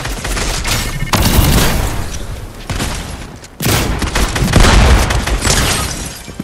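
Gunfire in the video game Fortnite rings out in loud, close bursts: a couple of sharp volleys of shots, each trailing off into a rumbling echo.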